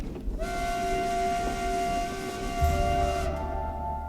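Train rolling along the rails, a sustained horn sounding over the low rumble of wagons, the horn holding for a few seconds before fading as the running noise continues.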